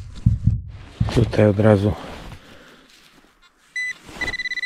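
A metal detector on an expedition along the Lyngen Line in Norway gives a steady, clear high beep, then a quick run of short pulsing beeps, after someone talks close by.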